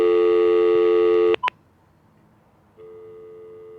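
Phone keypad tones beep in a quick close sequence, a sustained tone then two brief beeps, a short pause, and another steady tone.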